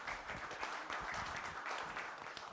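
Audience applause for a venture capital panel and its moderator at an evening business event, a dense, steady wash of many hands clapping throughout, fairly distant and even, with no one speaking over it.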